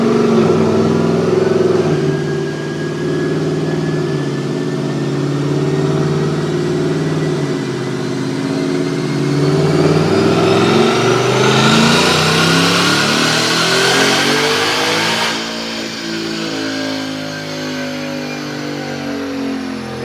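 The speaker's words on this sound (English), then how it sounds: "Check out this dyno pull." A supercharged 2022 Roush Mustang 450R with a 5.0 V8 and automatic transmission revs hard on a dyno, its loud engine note climbing steadily in pitch across a long pull, with a rising supercharger whine, then backing off near the end.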